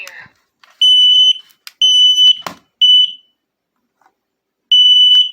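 Loud, shrill smoke alarm beeps in several sustained bursts with short gaps, a brief voice and clatter between them.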